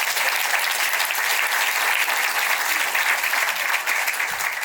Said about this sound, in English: Round of applause, thank you so much.